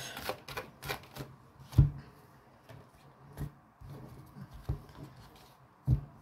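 Oracle cards are shuffled and drawn during a love reading: a string of close, crisp taps and soft slaps with brief riffling between them, some sharper card snaps standing out. No voice is heard.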